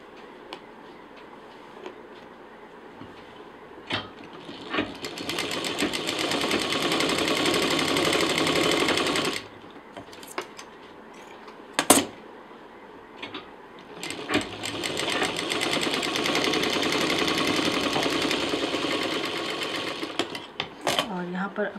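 A sewing machine stitches a zip and piping onto a carry-on sling bag in two long, close, rattling runs, with brief clicks and pauses between them and someone talking in the quieter gaps.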